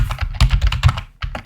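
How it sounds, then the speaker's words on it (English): A password is typed on a computer keyboard in a burst of close, crisp key taps, with a short pause before a few more strokes and no voices. "Then you type in your password and you hit save."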